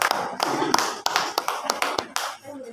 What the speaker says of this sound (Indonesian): Tepuk tangan untuk ketiga narasumber.